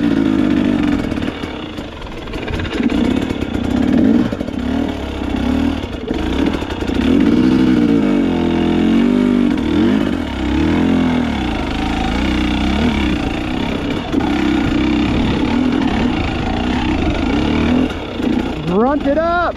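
A two-stroke dirt bike engine lugs and revs continuously on a steep trail climb, loud and close throughout, with voices talking over it and a rising rev near the end.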